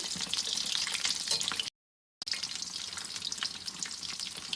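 Bread pakoras fry in hot oil with a constant crackling sizzle, close and even, broken by a brief silence before the bubbling resumes.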